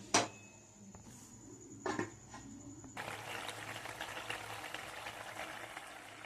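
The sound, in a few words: purple cucumber curry simmering in a covered pan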